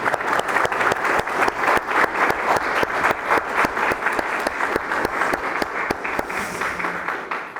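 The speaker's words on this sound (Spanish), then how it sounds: "pido un aplauso a esta gente que nos ha hecho vibrar tanto" Audience applauding at the opening of an exhibition marking a 40th anniversary, steady dense clapping that runs evenly throughout, fairly close and loud with no talk over it.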